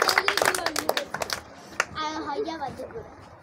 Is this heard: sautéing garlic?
no